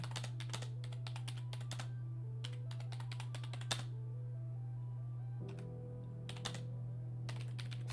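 Slow, uneven keystrokes on a computer keyboard, clicking in sparse bursts over a steady low hum, with no one speaking.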